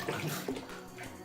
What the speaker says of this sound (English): Let's pour out 2 cups of heavy cream.